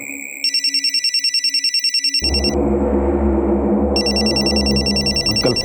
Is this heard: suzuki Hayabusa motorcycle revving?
no